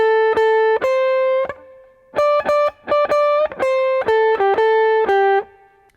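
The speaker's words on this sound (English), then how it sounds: "The main theme of this solo sounds like this." Electric guitar plays a short four-note lead theme, with clear, sustained plucked notes, repeated hits and slight bends, close and loud with no talking.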